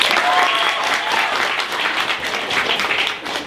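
Sustained audience applause fills a live poetry event, a dense, steady wash of many hands clapping at close range, with a few cheers and whistles rising over it before it thins slightly at the end.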